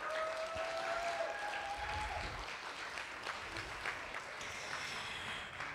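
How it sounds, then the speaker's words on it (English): An audience at a summit conference applauds, a steady wash of many hands clapping at moderate distance for several seconds, fairly soft overall. "Big round of applause for them."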